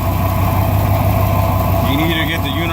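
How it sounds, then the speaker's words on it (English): A car engine with a bad catalytic converter idles steadily and loudly, a constant low drone with a loose rattle inside; a higher warbling tone rises near the end. "That's the sound of the bad catalytic converter."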